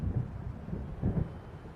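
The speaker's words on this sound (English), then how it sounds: "It seems there's a storm coming." Low, muffled thunder from an approaching storm in Alan Wake rolls in two soft swells, distant and rumbling over a dull windy background.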